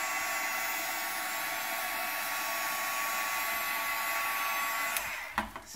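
A heat tool blows a steady, loud hiss of hot air over encaustic wax, then cuts off near the end, leaving a few brief clicks and knocks.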